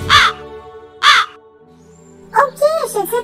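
Two loud, harsh crow caws sound close together, followed by a speaking voice, as a sound effect within a told story.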